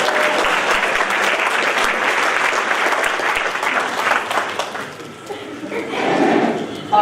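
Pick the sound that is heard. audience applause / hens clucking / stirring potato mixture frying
audience applause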